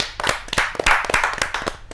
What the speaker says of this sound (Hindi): आप तालियों से स्वागत कीजिए